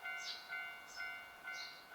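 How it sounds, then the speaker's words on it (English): A railroad crossing bell rings faintly in the distance, its repeated strikes coming at a steady rhythm of roughly one per second over a quiet background. "A faint train crossing bell was ringing in the distance."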